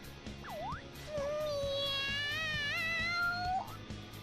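A cat in the Persona 5 video game meows in an excited, drawn-out, wavering call, following a brief short chirp, loud and close over a faint game background.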